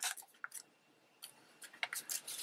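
Scissors snip through paper while trimming a small paper strip for a junk journal tab pocket topper: several short, crisp cuts in irregular bursts, close and fairly quiet, with no talking.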